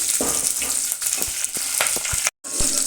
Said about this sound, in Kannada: ಈರುಳ್ಳಿ ಮೀಡಿಯಮ್ ಫ್ರೈ ಮಾಡಿ